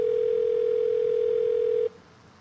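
An outgoing telephone call plays a steady, clear ringing tone that holds for nearly two seconds and then cuts off, leaving faint background hiss.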